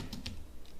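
A few quick taps on a computer keyboard as a terminal command is typed, soft and close in a quiet room, with no voices.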